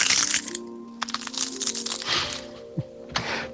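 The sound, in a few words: bones breaking sound effect without low-pass filter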